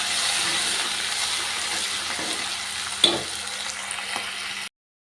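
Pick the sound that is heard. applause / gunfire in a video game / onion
onion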